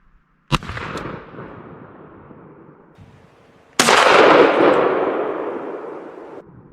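A Browning A5 shotgun firing Winchester 3.5-inch turkey loads outdoors: a sharp close blast with decaying rumble, then after a pause a second, louder and fuller boom that rolls on for several seconds.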